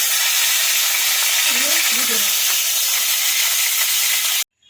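Potato, pumpkin and eggplant fry in hot oil for a vegetable curry, giving a loud, steady, close sizzle with a faint stir sound partway through, ending abruptly.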